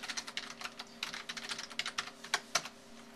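Quick bursts of keystrokes on a computer keyboard while a root password is entered during a ClearOS server install, close and crisp with uneven rhythm and short gaps between presses.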